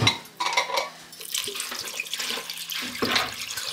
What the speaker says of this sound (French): ensuite, je vais ajouter de l'eau